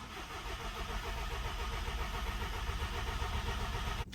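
A VW Golf MK2 diesel engine, its fuel rail empty, cranks and turns over with a steady, loud, close mechanical churn that holds unbroken before cutting off abruptly at the end.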